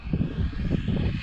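A Seagull Models T-6A Texan II radio-controlled balsa airplane glides in to land under light power, its propeller engine giving a brief, fairly near, steady buzz.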